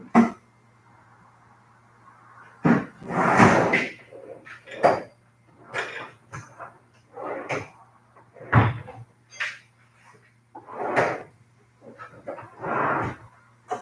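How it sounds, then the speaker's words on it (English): Bearing cups are hammered out of a chopper motorcycle frame in a workshop with a 4-pound hammer, giving a series of sharp metallic blows at irregular intervals, close and loud, with short quiet gaps between strikes. "Let's see if I can knock these cups out real quick."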